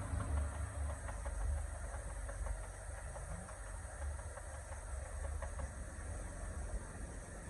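A Jeep Wrangler Sahara with the 3.6 engine idles steadily, a low continuous rumble with faint ticking, heard close and unchanging.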